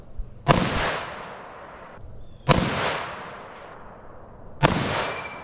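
Three armor-piercing rifle rounds are fired at the armored hatch of a Ferret Scout Car. Each sharp, loud crack sets off a long rolling echo, spaced about two seconds apart outdoors, with no talking.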